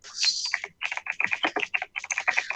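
Rapid keyboard typing in quick bursts with short pauses, close and fairly quiet, no voices.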